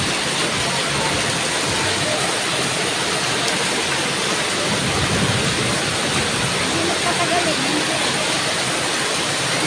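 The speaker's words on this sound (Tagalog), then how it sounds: "Grabe yung ulan." Heavy rain pours in a steady, dense roar near a mall, loud and unbroken, with voices talking underneath.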